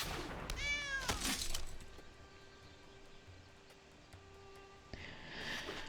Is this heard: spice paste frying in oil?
no